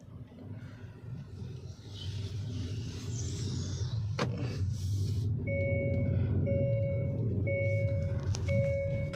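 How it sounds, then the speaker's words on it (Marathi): Inside a 2024 Hyundai Creta, the seat belt warning chime beeps four times in an even rhythm over a low engine and cabin hum, after a short click. "तर गाडी लगेच वाजे चालू होते, कारण सीट बेल्ट लावलेलं नाही आहे मी"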